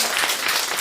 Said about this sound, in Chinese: 我们给他鼓掌一下鼓掌一下